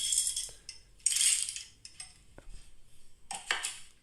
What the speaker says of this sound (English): There are the beans going in.